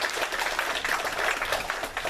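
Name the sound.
congregation applause of thanks in church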